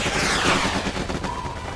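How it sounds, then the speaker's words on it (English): Machine gun fire in the video game Panty Party comes as a dense, loud, continuous burst with heavy noisy crackle throughout and game effects layered in, close and chaotic, with no talking. "swap to a machine gun"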